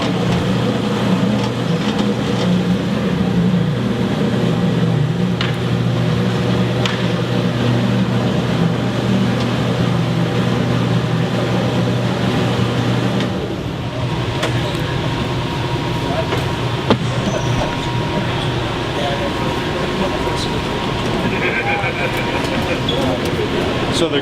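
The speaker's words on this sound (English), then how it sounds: "The grapes get crushed by these propellers in here." A grape crusher for winemaking runs steadily, its spinning shaft and propellers crushing grapes in a loud, continuous mechanical drone that eases slightly partway through, with people talking nearby.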